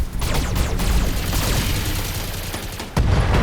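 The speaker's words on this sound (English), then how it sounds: "LRM ammo explosion, he's in a bad way" Long-range missile salvo and ammunition explosion in the BattleTech game, a dense loud barrage of rapid crackling blasts and booms, with a fresh heavy impact near the end.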